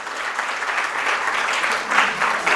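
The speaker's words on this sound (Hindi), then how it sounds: "पहले हम एक बार जोरदार तालियां बजा दें उनके पुस्तकों के लिए" Audience applause at a Hindi book launch honoring two authors' books, a dense steady clatter of many hands that swells slightly near the end, with no talk over it.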